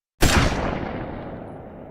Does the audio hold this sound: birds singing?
no